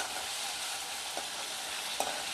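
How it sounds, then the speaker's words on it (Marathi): Chopped onion frying in a pan for lotki kofta, a steady broadband sizzle hissing continuously at close range, with a couple of faint spoon clicks as it is stirred. "आता कांदा टाकायचा आहे कांदा होऊ द्यायचा चांगला"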